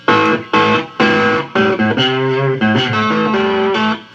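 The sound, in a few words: cigar box guitar through Blues Driver distortion pedal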